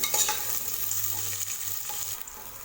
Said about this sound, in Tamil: ஆட் பண்ணிவிட்டு இது நல்லா வதக்கி விடுங்க வெங்காயத்தை.